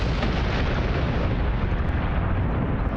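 Dense, continuous rumbling barrage of rapid gunfire and blasts in the space battle video game Battlestar Galactica Deadlock, loud and unbroken throughout with no pauses.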